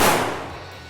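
A single gunshot fired at a squirrel up in a tree during a hunt, a loud close blast with a broad decaying tail that fades out over under a second.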